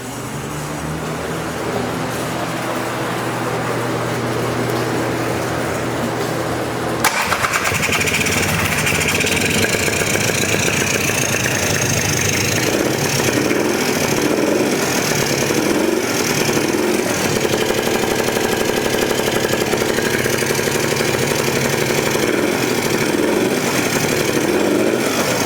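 A Polaris 400cc two-stroke ATV engine starts with a sharp jump after a few seconds of low idle-like hum, then runs steadily at a loud, close, slightly uneven idle with no talking.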